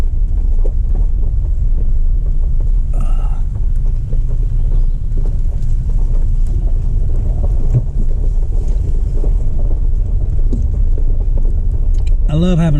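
A 4-wheel drive 4-door truck drives along a forest road on Brown Mountain, giving a loud continuous low rumble with wind buffeting the microphone and a few faint knocks.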